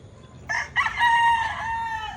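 A gray gamecock rooster, a one-time derby winner, crows once at close range, a loud drawn-out call lasting under two seconds with a brief break near its start.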